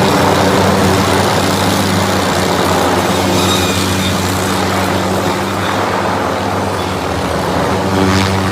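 Helicopter engine roars loud and steady throughout while the aircraft cuts tree branches, a continuous dense drone with a low throbbing hum and no voices.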